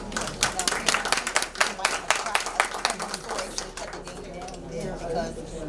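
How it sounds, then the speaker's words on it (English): An audience applauds for Tracy Allen at a DPAC meeting with dense, steady clapping that thins out and fades after about four seconds, while voices talk over the tail. "let's give a round of applause for Ms."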